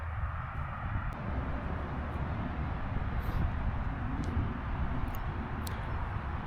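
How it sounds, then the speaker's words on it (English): A constant low rumble of traffic on the A465 road beside a cemetery drones on without pause, broad and steady, with faint passing whooshes layered on top. "If you hear road noise behind me, we are sat literally adjacent to the A465"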